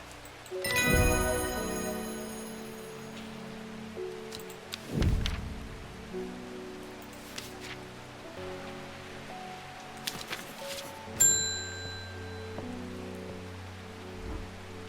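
Rain falls steadily in the video game Strange Horticulture, a soft continuous patter heard alongside the game's musical tones and chimes, moderately quiet and unbroken.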